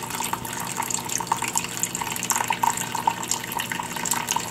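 Water flows down a curved streambed in a classroom stream table lab, a steady close trickling and splashing that continues without pause.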